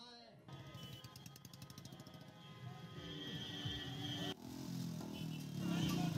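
Motorcycles ride in a political bike rally in Delhi, a steady mechanical engine drone with rattling, close and moderately loud, growing a little louder toward the end, with faint voices in the mix.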